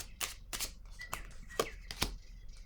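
Tarot cards being shuffled produce several short, crisp riffling bursts spaced about half a second apart, close and fairly quiet, with no speech.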